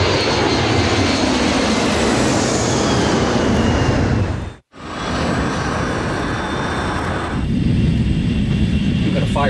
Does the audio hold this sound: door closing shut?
no